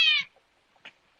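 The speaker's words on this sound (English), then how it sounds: "Sorry, that was my cat." A pet cat's single clear meow, close and fairly loud, short and drawn out, followed by quiet room tone with a faint small noise.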